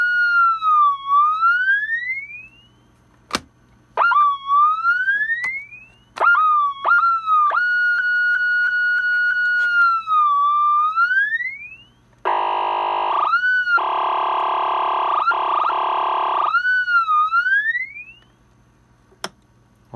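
Tweety Bird sound effect sent over a CB radio, a series of loud electronic swooping chirps and warbles with a sustained buzzy tone in the middle, clean and continuous with brief pauses.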